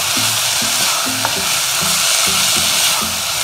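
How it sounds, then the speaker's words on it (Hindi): Tomatoes mashed and masala stirred in a hot pan for ragda chaat, with loud continuous sizzling and rhythmic scraping, pressing strokes repeating about twice a second. "और टमाटरों को मैश करते हुए अपना मसाला तैयार करते हैं"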